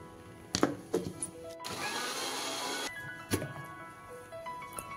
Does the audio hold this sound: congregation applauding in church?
no